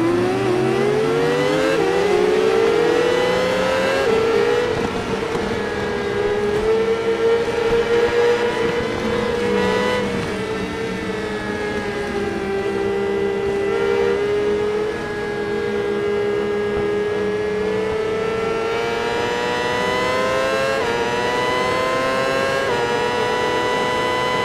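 Racing motorcycle engines from the Ride 4 video game's 600cc class scream through a five-lap race, a continuous loud high-revving whine that climbs and dips with gear changes and throttle, overlapping engines blending throughout.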